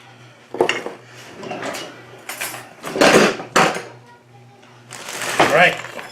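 Crushed ginger snaps are mixed in a bowl, giving close clattering and scraping of utensil against dish in uneven bursts, with a low steady hum underneath.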